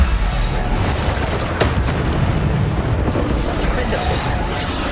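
Bombarda blasting-spell explosions in the video game Hogwarts Legacy, loud continuous booming and rumbling combat noise with a spoken incantation over it.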